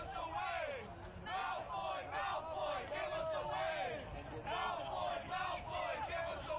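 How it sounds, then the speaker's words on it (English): Soccer crowd at a Colorado Rapids 2 vs Real Monarchs MLS NEXT PRO match chanting for player Dylan Cerna, a loud rhythmic group chant repeating in waves across the stadium, continuous throughout. "They've been chanting for Dylan Cerna all night, among other things."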